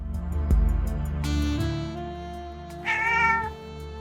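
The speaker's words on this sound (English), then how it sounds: "These resurrected cats almost pass for the real deal. Even meow like them." Resurrected cat in the pixel-art cyberpunk noir game Neon Hearts City, giving a drawn-out meow and then a second shorter meow, clear and close over a low ambient game hum.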